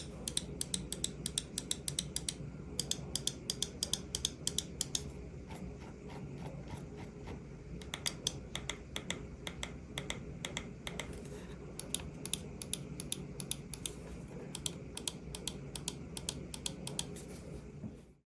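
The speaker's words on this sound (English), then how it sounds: "Here's a quick sound test of the buttons on the VT7 Max." Rapoo VT7 Max gaming mouse buttons clicked in rapid bursts, crisp sharp ticks repeated many times close to the microphone over a steady low background hum, with no talking.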